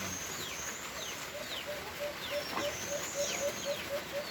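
Birds chirp in a coconut grove, small repeated calls with sweeping whistles over steady outdoor ambience, moderately distant and fairly quiet.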